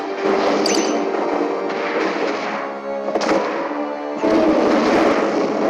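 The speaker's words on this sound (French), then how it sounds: "Nous allons utiliser le souffle atomique." Godzilla's atomic breath attack in the mobile game Godzilla Battle Line, a loud sustained roaring blast with crackling explosive bursts and a renewed surge near the end.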